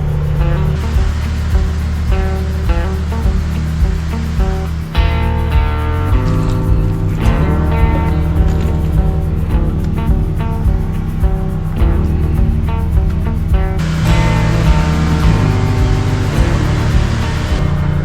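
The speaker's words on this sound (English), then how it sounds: "Second tank's filling." Water filling a water hauler's tank on the range, a loud, steady rush of flowing water over a constant droning pump motor, continuous throughout with no voices.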